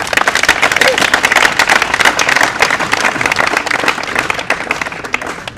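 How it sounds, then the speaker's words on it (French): Vigorous applause breaks out among party members at a political press gathering, loud sharp clapping packed close together with crowd voices mixed in, easing slightly toward the end. "J'aimerais que vous puissiez vous applaudir très fort."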